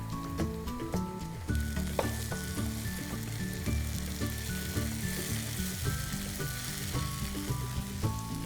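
Tomatoes sizzle in a pan with browned onions for a Sindhi mukandar wadi dish, a steady close frying crackle with spattering pops throughout, no talking.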